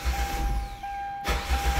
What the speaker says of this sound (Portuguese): O carro ameaça pegar e não pega.